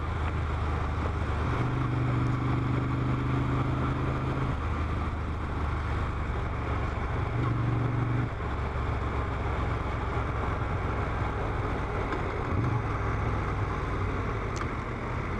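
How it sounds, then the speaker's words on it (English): A Moto Guzzi Griso motorcycle engine drones steadily while riding, with engine braking shifting the pitch in a few stretches, all under constant rushing wind noise from the moving ride. "engine braking is really good on this motorcycle"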